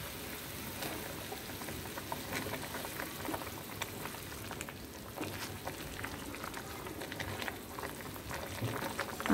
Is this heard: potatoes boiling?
yes